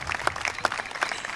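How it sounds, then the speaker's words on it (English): An audience at a high school graduation ceremony applauds in a short burst of close, dense clapping. "Clap it up."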